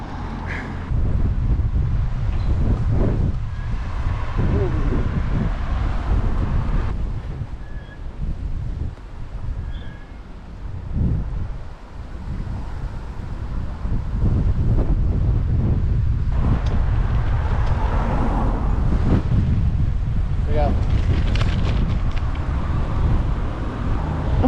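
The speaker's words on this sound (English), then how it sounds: "There's so much wind here." Strong coastal wind buffets the microphone while bikepacking along the south coast of Portugal, a loud continuous low roar that surges and dips throughout with no voices.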